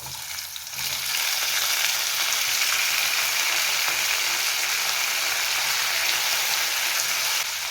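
Chopped tomato pieces go into hot oil in a pan for NTR-style chutney, swelling from a quieter sizzle into a loud, constant close frying hiss that continues steadily with no voices.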